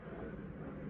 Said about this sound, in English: there's a plane going over.